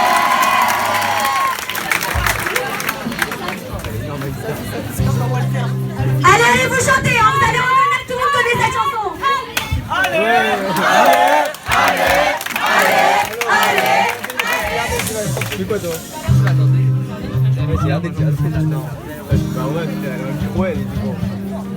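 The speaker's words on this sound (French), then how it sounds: "Merci de l'applaudir." Audience at a Purim school show put on by final-year students in Paris cheers and applauds a performer, a loud, dense crowd roar with shouting and voices talking over it throughout.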